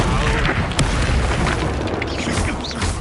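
A Confringo blasting curse explodes in Hogwarts Legacy, a loud, dense burst of booming, crackling impact noise that fills the whole three seconds without letting up.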